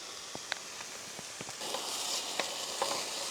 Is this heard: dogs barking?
no